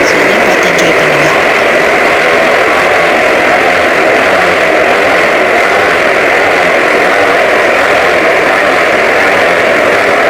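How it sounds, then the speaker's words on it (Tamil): Motorcycle engines roar during a bike riding act at the Jumbo circus in Chennai, a loud continuous dense drone with no clear breaks, heard as one steady wash of engine noise without talk. "எல்லோரும் ரொம்ப எதிர்பார்த்துட்டு இருந்த பைக் ரைடிங் தான்"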